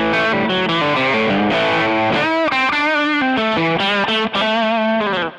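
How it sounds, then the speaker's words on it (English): Electric guitar lead line played through a BOSS GT-500 with an overdrive and boost engaged, sustained, singing distorted notes in a fast melodic phrase, loud and close with no talk. "so that's my basic overdrive"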